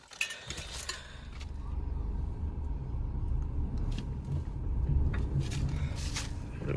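A car's engine rumbles steadily at close range as it reverses, with a few light clinks and mechanical knocks over the low drone.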